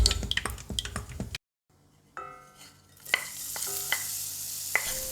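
Chili peppers stir-fried in a pan for an eggplant side dish, sizzling with light clinks and scrapes of a utensil, broken by a short silence before the frying hiss resumes, close and moderately loud.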